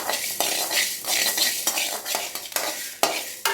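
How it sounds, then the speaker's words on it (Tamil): Fenugreek seeds dry roast in a hot pan with no oil, stirred with a spatula in repeated scraping strokes over a soft crackle, close and steady. "வாசனை வர வரைய வறுத்துக்கோங்க. எண்ணெய் எதுவும் சேர்த்துற வேணாம்."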